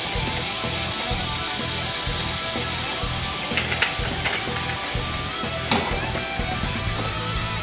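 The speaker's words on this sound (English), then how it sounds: "We'll go ahead and let that saute." Pepper sautés in hot oil in a pan, giving a steady, close sizzle with occasional sharper crackles and pops.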